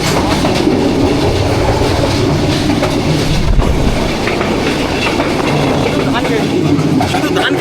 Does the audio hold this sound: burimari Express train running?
yes